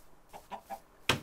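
Chickens on a Minecraft chicken farm give a few soft, short clucks spaced apart, followed by a louder, sharper squawk at the end.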